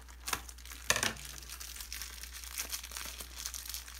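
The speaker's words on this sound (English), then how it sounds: "I have to cut this open, I think." Plastic packaging is cut and torn open during a handmade soap unboxing, with sharp crinkles and a couple of louder snips and rips close by, then softer rustling, no talking.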